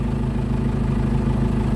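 A John Deere 5083 E tractor engine idles steadily up close with an empty driver's seat, giving a low, even diesel rumble with no change in pace and no talking.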